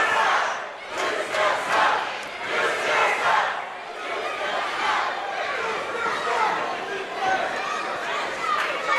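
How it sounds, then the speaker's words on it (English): A large wrestling crowd jeers and shouts during a count-out, a dense roar of voices that swells and ebbs in waves, with a commentator's voice running through it. "The crowd not showing Haas a lot of love here"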